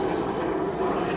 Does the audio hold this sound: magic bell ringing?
no